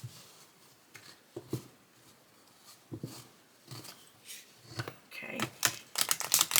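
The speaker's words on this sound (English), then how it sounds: "Let's see how they shuffle." A deck of 44 large oracle cards is shuffled by hand: scattered soft taps and riffles, growing busier and louder toward the end, with a brief spoken word.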